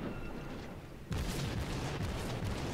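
A Japanese IJN Kuma-class cruiser's guns fire in World of Warships, a heavy booming salvo that breaks in suddenly after a low rumbling lull and rolls on as a sustained roar.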